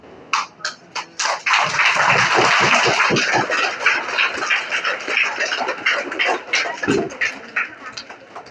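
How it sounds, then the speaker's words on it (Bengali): Applause for the chief guest at a Rotary Club of Dhaka Karwan Bazar event distributing educational supplies to flood-affected children, a crowd clapping steadily for several seconds after a short spoken introduction. "আমি কথা বলার আগে হাততালি শুরু হয়ে গেছে"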